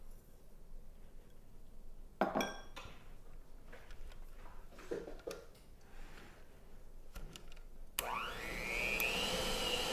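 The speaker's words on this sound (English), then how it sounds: "We're just going to beat this for about 5 minutes because you just want it to be light and fluffy" Electric mixer beating butter and sugar, a steady whirring drone broken by clinks and bumps against the bowl, with a louder surge of whine near the end.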